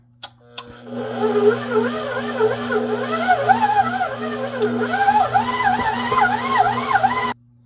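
A stand mixer kneads cinnamon bun dough with a dough hook on second speed, its motor droning loud and steady with a wavering, rising-and-falling whine for several seconds before stopping abruptly.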